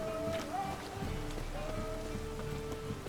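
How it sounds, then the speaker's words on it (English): Steady rain falls in The Witcher 3, a dense hiss spread across the whole clip, mixed with tonal game music and faint ambient noise. "It's raining again. Seems to always rain in this joint."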